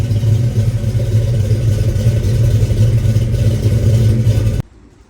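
A loud car engine with a modified exhaust runs with a deep, throaty exhaust rumble, holding steady and close before cutting off abruptly near the end.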